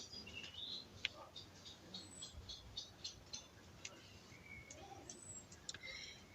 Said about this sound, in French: Il y a beaucoup d'oiseaux dans mon jardin là, parce qu'on est entouré d'arbres.